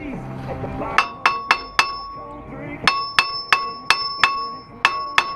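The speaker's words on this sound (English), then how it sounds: "you're gonna have to bang it, you know, with a hammer" A hammer bangs on a stuck, rusted brake rotor on a Grand Marquis or Crown Victoria, sharp metallic clanging strikes in two rapid runs of four and six blows, ringing close and loud, with speech briefly at the start.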